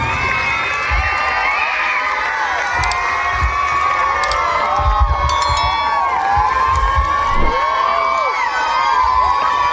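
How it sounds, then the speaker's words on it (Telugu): Children and guests at a school annual day celebration cheering and shouting to welcome a guest onto the stage, a lively continuous crowd din with high excited voices. "చప్పట్లతో పూలబాల గారికి మౌంటేశ్వరి స్వాగతం పలుకుతుంది"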